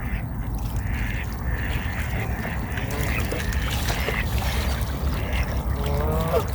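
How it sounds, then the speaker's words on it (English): A single white duck at Pugneys Country Park in the UK gives a short run of quacks near the end, over steady outdoor wind and water noise, with other bird calls faint in the background. "So it's just one solitary white duck."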